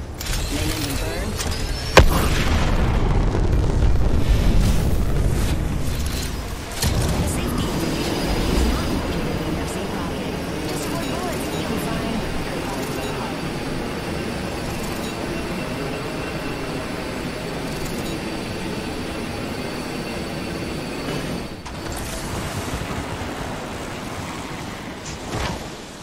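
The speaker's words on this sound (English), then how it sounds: "Main engine burn." In the video game Apex Legends, a dropship's main engine fires with a deep sustained rumbling roar and a sharp onset, heavy and close at first, then settling into a steady drone, with voices talking over it.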